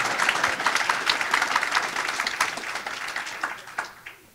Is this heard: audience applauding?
yes